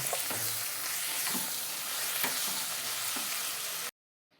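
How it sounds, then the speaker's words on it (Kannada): Green chillies fry in hot oil with a loud, steady sizzle, and a spoon stirs them in a few soft scrapes before the sound cuts off abruptly. "ಹಸಿಮೆಣಸಿನ್ಕಾಯಿ ಫ್ರೈ ಆಗಿದೆ"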